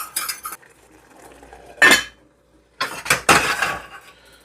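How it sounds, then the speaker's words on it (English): Metal whisk scraping and clinking against a pot of regular grits in several short bursts, with quiet pauses between them. "And whisk it in a little bit."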